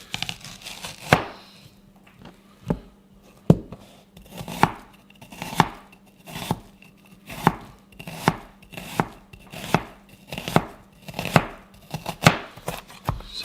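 Half an onion chopped on a cutting board with a knife: steady, fairly loud knife strikes, roughly one per second, evenly spaced and close by, with no talking.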